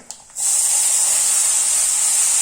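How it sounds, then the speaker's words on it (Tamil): Tomatoes drop into a hot pan of oil with fried dried red chillies, curry leaves and urad dal for a rasam premix, setting off a sudden loud, steady hiss of sizzling that starts after a brief quiet moment and holds evenly. "உளுத்தம்பருப்பு செவந்துருத்து தக்காளியை போடுறேன்"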